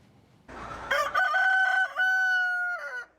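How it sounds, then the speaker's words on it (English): A rooster crows loudly once nearby at a country fair poultry area, a long drawn-out cock-a-doodle-doo rising and holding its pitch before breaking off. "There's the rooster crowing and the people crowing contests."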